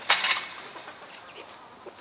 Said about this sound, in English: The rooster came over.